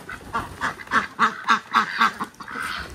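Ducks at a pond give a run of loud, close quacks in a steady, bouncing rhythm, one call after another with short gaps and no voices.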